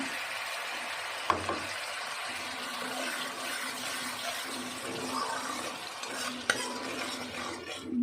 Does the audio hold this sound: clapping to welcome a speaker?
no